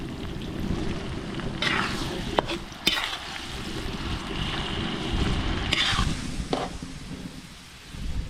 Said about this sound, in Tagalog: Mga Billy, ito na yung ating bawang sibuyas luya. Lalagyan na natin yung burong tilapia mga Billy.